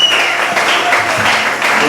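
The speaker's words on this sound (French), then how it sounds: "Applaudissez pour le Seigneur." A church congregation at a French-language service claps, loud and steady close by, for a couple of seconds with a voice over it.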